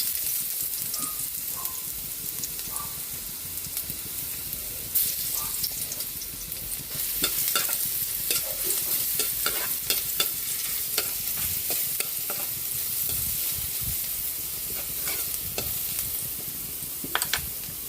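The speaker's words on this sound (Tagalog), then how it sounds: "Magigisa na po tayo para sa ating giniling. Lagyan natin yung bawang." Garlic sautéing in a pan for picadillo (giniling), with steady sizzling and frequent scraping, stirring clatter of a utensil against the pan throughout.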